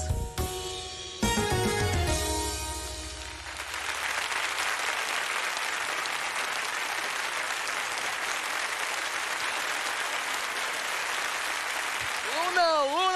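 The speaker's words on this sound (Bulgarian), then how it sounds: "аплодисменти за нея!" A crowd claps in sustained applause at a Bulgarian television impersonation show, following a brief burst of music and a host's voice, then holding steady and fairly loud until the music returns at the end.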